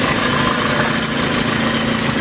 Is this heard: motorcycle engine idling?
yes